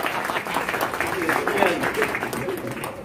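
An audience at a jalsa applauds in a dense patter of clapping that runs steadily throughout, with a voice speaking over it.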